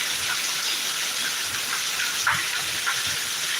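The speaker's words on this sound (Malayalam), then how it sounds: "ഇതൊക്കെ കൊള്ളാം നല്ല കിടിലം മഴ" Steady, dense rain pours down in a continuous loud hiss, with scattered heavier splashes standing out now and then.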